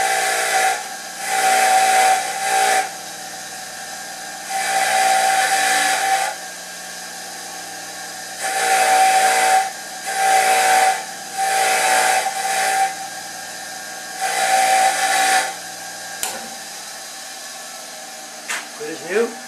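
A buffing tool takes rust off bolts ahead of greasing, a harsh whirring hiss in repeated bursts of a second or two separated by short pauses, close and loud.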